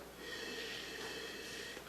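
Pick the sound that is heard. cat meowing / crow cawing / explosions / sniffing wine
sniffing wine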